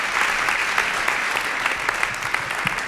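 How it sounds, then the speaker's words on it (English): An audience claps steadily in a chapel, dense, loud applause filling the room throughout, with occasional sharper individual claps and no voices over it. "Can we give them a round of applause?"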